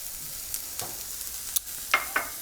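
Vegetables softened in a pot frying with curry powder and beef masala being stirred in, a quiet steady sizzle with a few soft scraping stir clicks, no talking.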